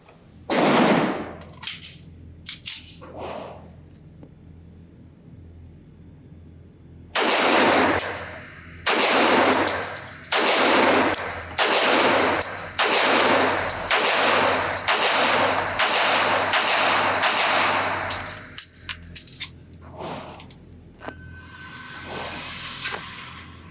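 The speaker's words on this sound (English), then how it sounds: "I'm going to shoot at a target at 7 yards." Sharp, loud shots from a CZ 97B .45 ACP all-metal-frame handgun fired at a target seven yards away on a range: a few early shots, a pause, then a steady string of about a dozen evenly spaced reports, ending in hiss.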